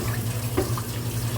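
Tap water runs into a kitchen sink while a cooking pot is washed, a close, steady hiss with a low hum beneath and small splashy clinks, continuous throughout the short moment.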